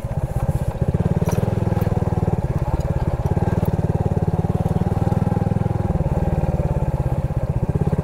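A motorcycle engine idles with a steady, rapid putter close by, running evenly throughout without voices.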